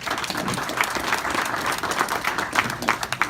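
A crowd applauding at a police district awards dinner, steady energetic clapping from many hands filling the room for over three seconds, close and fairly loud with a few sharper claps poking through.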